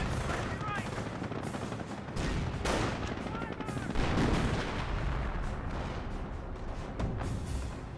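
Battle sounds from the Company of Heroes video game: dense bursts of rifle and machine-gun fire mixed with grenade blasts and booms, continuous and busy, with a commentator talking over the action.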